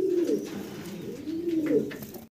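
Fancy pigeons, including a red helmet pair, coo in deep throaty rolls. The coos come close and clear in repeated bursts, with a faint rustle between them and no voices.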